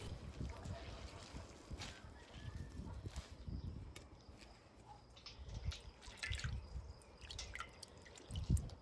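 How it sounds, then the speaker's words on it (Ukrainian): Rinsed dandelion flowers are wrung out by hand close up, giving irregular wet squelches, drips and trickles of water in uneven bursts, louder near the end. "Залила водою, трішки сполоснула і зразу відтискаю."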